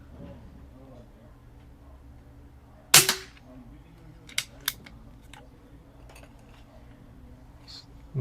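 An Umarex Zelos .25 air rifle fitted with a moderator fires a single sharp, loud crack, followed by a couple of quieter mechanical clicks, against a low hum; a voice is heard in the background.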